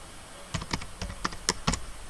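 Typing on a computer keyboard while entering Python code, about eight crisp separate keystrokes in a quick uneven run, close and fairly quiet, with no talking.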